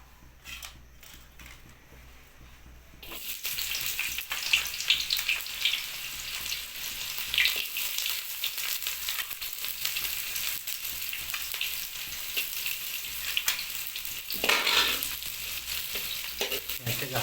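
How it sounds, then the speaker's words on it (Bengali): Onions frying in hot oil in a pan, stirred gently by hand. A steady loud sizzle starts after a quiet opening, with scraping stirs and clinks over it, and swells again near the end. "পেঁয়াজটাকে হালকা হালকা হাতে নেড়ে নিতে হবে।"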